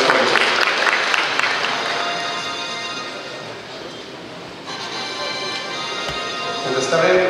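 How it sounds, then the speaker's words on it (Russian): Audience applause at a boxing championship in St. Petersburg, a dense, sustained wash of clapping that fills the hall, easing slightly in the middle and swelling again at the end, with a voice over it. "Аплодисменты!"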